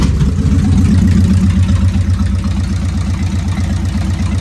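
A 1997 Kawasaki Vulcan 1500 with fuel injection runs loud and close, with a rhythmic low throbbing idle from its engine and no one talking.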